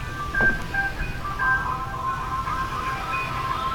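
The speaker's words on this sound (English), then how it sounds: "I forgot I had timers set, and they're unskippable little bastards." A phone's timer alarm rings out over a low background hum, a repeating electronic tone pattern that goes on steadily for several seconds without any talking.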